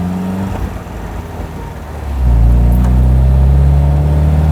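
An MGB classic British sports car with a four-speed manual gearbox driving on a quiet winding road, its engine droning steadily from inside the cabin, then swelling into a louder, sustained rumble as it accelerates.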